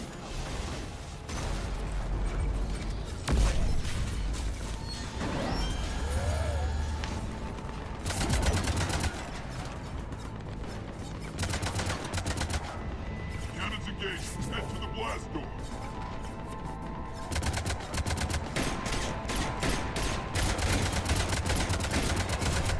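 Cannons and heavy gunfire in Mass Effect 3 keep going in loud, dense bursts and booms through a busy combat scene, with voices talking over parts of it.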